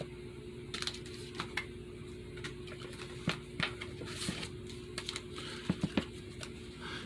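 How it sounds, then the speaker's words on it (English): Tarot cards being shuffled and laid out: soft, irregular papery taps and flicks with a few sharper snaps, faint and close, with no talk. "I'll throw some cards as my usual"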